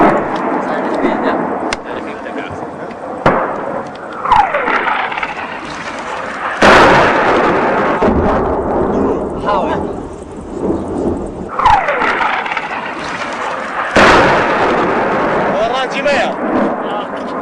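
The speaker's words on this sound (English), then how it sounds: "A new round of Iranian shelling has begun." Iranian artillery shelling near a Kurdish area of Iraq: several heavy, booming explosions land a few seconds apart, each rolling away like thunder, with voices in the background.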